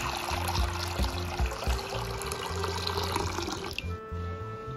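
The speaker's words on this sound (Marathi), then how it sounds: "आता फुलं आपण स्वच्छ धुवून घ्यायची।" Running tap water pours steadily as hadga (agasti) flowers are rinsed under it in a sink, a constant close splashing hiss with small bumps as the flowers are handled.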